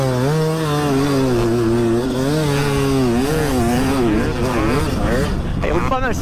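Two 250cc dirt bikes ride through sand, their engines holding a steady, high-pitched drone with rising and falling pitch as they pass, loud and continuous.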